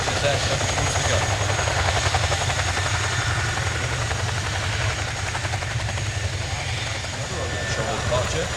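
Royal Air Force Chinook HC.5 twin-rotor helicopter flying at an air display, its dual 5,000-horsepower engines producing a loud, continuous rotor thump and engine roar, with a commentator's voice running over it.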